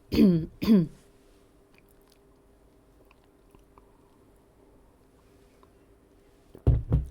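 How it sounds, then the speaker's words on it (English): Two sharp coughs come close together at the start, then near silence with a faint hum, and another pair of coughs at the end, all nearby and loud. "Cough comes from all of a sudden"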